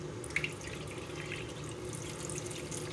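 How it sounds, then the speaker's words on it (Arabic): Water drains off rice in a kitchen while making rice pudding, a steady close splashing trickle running continuously for a few seconds with no talk. "هنصفي الميه كلها بالشكل ده كده"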